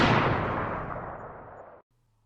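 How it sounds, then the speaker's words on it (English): A single rifle gunshot rings out loud and close, its boom decaying over about two seconds before cutting off abruptly into near silence. "Gunshot."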